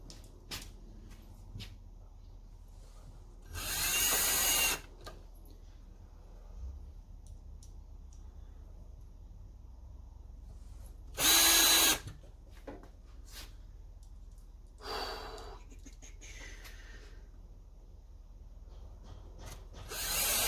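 Power drill driving screws into wood while building small wooden shutters, with three separate whirring bursts spaced several seconds apart, each lasting about a second, amid quiet handling sounds and light knocks.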